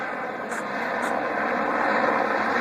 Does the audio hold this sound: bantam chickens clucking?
no